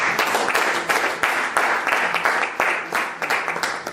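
A church congregation breaks into applause, loud, dense hand clapping with a slightly rhythmic pulse, close and sustained throughout.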